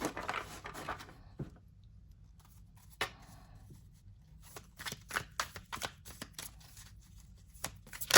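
Quick bursts of tarot cards being bridge-shuffled and side-shuffled, crisp papery flutters in short clusters with pauses between, close and moderately loud.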